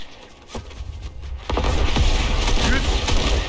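Gunfire in the battle royale game Fortnite bursts out as a loud sustained volley over continuous game noise, with a couple of sharp earlier reports before it, while players talk over it.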